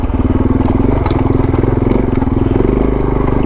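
Suzuki DR650 motorcycle riding in first gear, a loud, close, steady thumping single-cylinder engine drone with rapid regular pulses and some mechanical clatter throughout.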